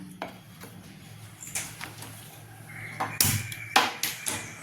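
Mustard seeds and urad dal splutter in hot tempering oil for a pirandai chutney: scattered sharp pops and crackles, close by, mixed with a spoon scraping and clinking against the pan. No one speaks.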